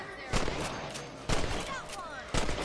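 Three sharp rifle shots, about a second apart, fired at rabbits in the western video game Red Dead Redemption, each loud and cracking over a steady ambient bed.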